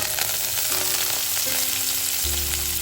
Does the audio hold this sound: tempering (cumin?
yes